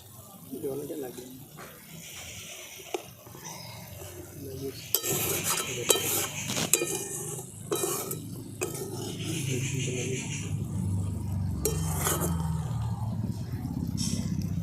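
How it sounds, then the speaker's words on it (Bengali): Egg and potato curry (dimer bati chorchori) stirred gently in a pan, with soft scraping and spoon clatter building into steady bubbling and light sizzling, close and moderately loud, with a few sharper clinks. "এগুলোকে হালকা হাতে একবার এইভাবে নেড়ে দেবো যাতে নিচটা না লেগে যায়"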